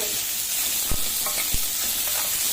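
Balloon vine (mudakathan) leaves sautéing in a pan, a steady bright frying hiss throughout with a couple of soft stirring knocks, close up.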